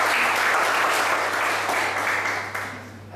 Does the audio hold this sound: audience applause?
yes